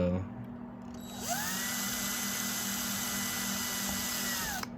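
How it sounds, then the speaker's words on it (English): A power drill bores holes into the cab roof of a Ford F350 while fitting cab lights, its high whine ramping up and holding steady for several seconds before winding down, loud and close with no talk. "once we get these drilled"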